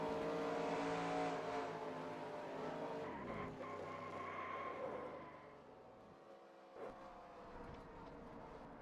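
A NASCAR race car in NASCAR Racing 2003 roars at high revs near the track, then the engine note drops as the throttle is lifted, with tire skidding and the whine of other cars.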